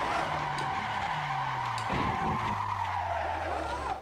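Toyota Supra sliding in the Assetto Corsa racing game, tires skidding with a continuous loud screech over a droning engine whose pitch falls and steps down through the slide, with no speech.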